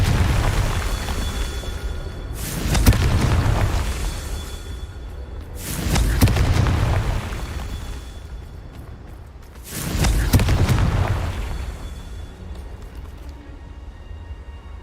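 Three loud, booming spell blasts from Confringo in Hogwarts Legacy, each a sharp burst swelling into a rumbling roar, evenly spaced a few seconds apart, with no talk.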